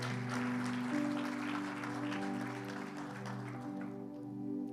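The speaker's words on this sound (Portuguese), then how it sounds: "dá um aplauso bem forte ao Senhor" A church congregation applauding the Lord, a dense sustained round of clapping from many hands with some voices underneath, fading slightly near the end.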